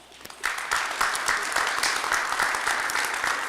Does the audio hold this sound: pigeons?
no